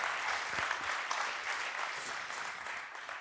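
An audience claps steadily after a tech talk presentation, giving a dense, even patter of many hands heard from some distance, continuing throughout without speech.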